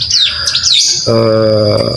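Close, loud bar-winged prinia chirping with quick rising and falling notes, followed by a steady buzzing tone.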